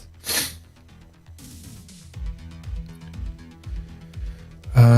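A single sharp sneeze bursts out near the start, followed by quieter rhythmic thumping and a few faint sounds in an otherwise quiet indoor space.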